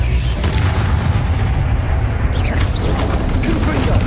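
Spell explosions in Hogwarts Legacy make a sustained, loud, rumbling roar of booming blasts, with shouting voices partly mixed in.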